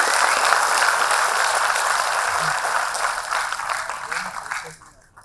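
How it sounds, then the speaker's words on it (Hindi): Large audience at a Nagpur constitution assembly gathering breaks into loud, sustained applause, a thick wash of clapping that holds for several seconds before quickly dying away. "एक बार जोरदार तालियां"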